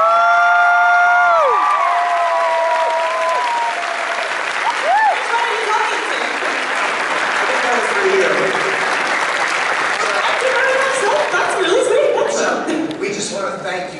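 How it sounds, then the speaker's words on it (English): A comic con panel audience in Louisville claps and cheers loudly and continuously, with whoops rising over the sustained applause and brief amplified voice tones early on. "we just all need to applaud."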